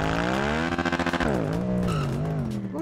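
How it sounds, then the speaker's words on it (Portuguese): A motorcycle tearing through woodland in GTA RP, its engine revving hard up close, the tone rising, dropping and surging again in a continuous loud whine. "Oxi, essa moto na mata aí"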